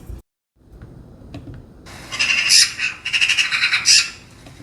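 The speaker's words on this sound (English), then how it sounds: "Do magpies even have like a cute bird song, or are they more squawkers?" Magpie calls played back from a recording, a series of harsh, raspy squawks in quick bursts following a brief quiet start, fairly loud and without talk.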